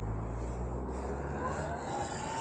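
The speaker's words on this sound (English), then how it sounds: "We got the MX-5 behind me. I can hear his exhaust" A Mazda MX-5's engine and exhaust drone steadily from just behind a Sur-Ron electric bike on the road, a low, continuous hum whose pitch creeps upward as the car pulls along.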